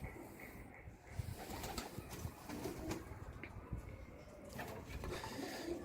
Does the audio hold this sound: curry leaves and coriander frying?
no